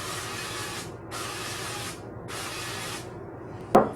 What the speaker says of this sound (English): Now I am going to spray this with olive oil